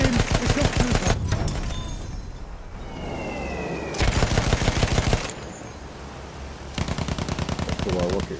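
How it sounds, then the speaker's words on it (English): Rapid rhythmic gunfire in Battlefield 1, loud close bursts of repeated shots separated by brief quieter gaps filled with battle noise and voices. "That's the wild rocket gun."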